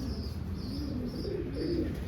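A large pigeon coos softly and low, a few murmuring calls close by against a faint steady background hum.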